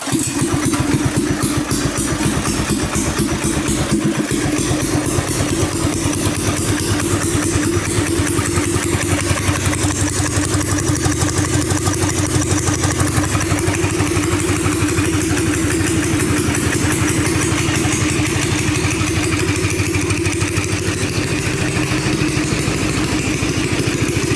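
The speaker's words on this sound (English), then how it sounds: "I'm gonna pull start it, and this thing starts in one pull." Predator 212cc single-cylinder engine on a homemade quad bike, pull-started and then idling steadily, a loud, close, continuous chugging that holds unchanged throughout with no talk.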